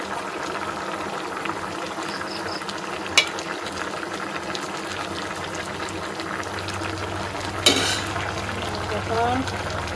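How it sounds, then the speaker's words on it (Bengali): Shrimp (shati fish) fries in a pan with a continuous, moderately loud sizzle and bubbling, broken by a couple of sharp utensil clinks against the pan. "দিয়ে আমি রান্না করতেছি।"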